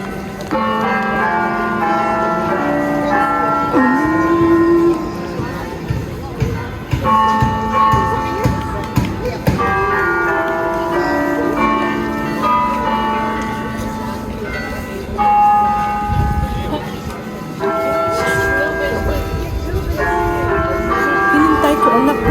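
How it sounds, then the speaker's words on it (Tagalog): A church bell in Rome rings out twelve o'clock in repeated, resonant strokes that carry over the hubbub of a busy street, with people talking throughout. "It's the bell for 12 o'clock."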